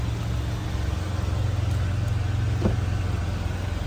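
A BMW 118i M Sport idles with a steady, low engine hum through its single exhaust, recorded close and at an even level, with no change in pitch.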